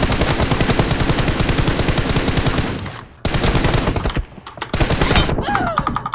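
Rapid automatic gunfire from the PUBG Mobile video game, loud and close, in long sustained bursts broken by brief pauses.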